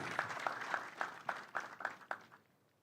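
An audience at a school anniversary ceremony at an air base claps in a close, even patter that thins out and fades at the end.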